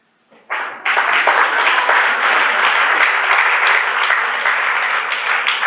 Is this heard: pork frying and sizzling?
no